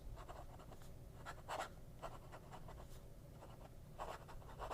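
Fountain pen with an extra fine flex nib scratching across paper in short strokes, close and soft, with irregular bursts of scritching and brief pauses, no voices.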